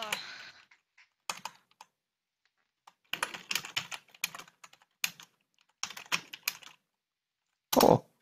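Bursts of typing on a computer keyboard, close and crisp, in quick clustered runs separated by short pauses, ending with a loud dense flurry of keystrokes.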